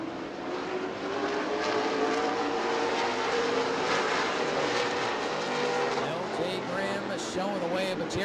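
Race cars run on the New Smyrna Speedway short track during World Series racing. A loud, continuous engine roar fills the whole clip and rises in pitch near the end as cars pass close by.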